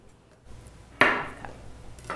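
A knife strikes an onion on a cutting board in a home kitchen: one sharp chop, a softer tap after it and another near the end, close and fairly loud with no talk.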